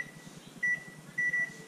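While fudge is made on a stove burner, a kitchen timer being set lets out two clear, high beeps over a faint low hum.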